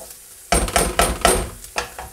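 Onions and garlic cooking in a hot pan on a flame, with a run of scraping, clattering strokes as the pan is stirred, several close knocks over a steady sizzle.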